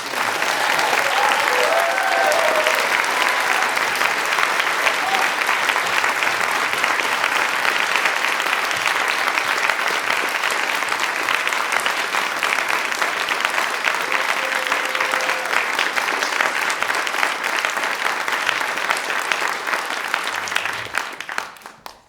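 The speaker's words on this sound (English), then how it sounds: "Can we give them another round of applause?" Sustained applause from a large audience for a European high school honor orchestra fills the hall, dense and steady throughout before tapering off at the very end.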